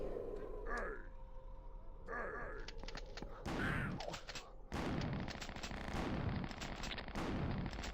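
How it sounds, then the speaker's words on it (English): Rapid bursts of gunfire from shooting zombies in the retro shooter game Killing Time Resurrected, loud and dense, with sharp repeated shots and crashing impacts layered over a busy game soundtrack. "I'm just like shooting a bunch of zombies."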